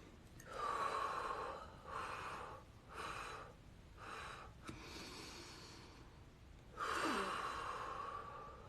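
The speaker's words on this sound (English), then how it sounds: "Let's take a deep breath." Deep, slow breaths drawn in and let out in a quiet room, several long airy inhales and exhales in a steady rhythm, close and fairly soft, with no talking.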